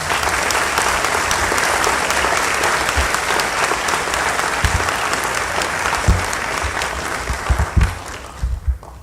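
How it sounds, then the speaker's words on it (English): A crowd of new recruits and guests applauds at a municipal police ceremony, a loud, sustained roar of many hands clapping that runs evenly for most of the stretch before thinning into scattered, uneven claps at the close. "I want you all to give yourself a special round of applause this morning."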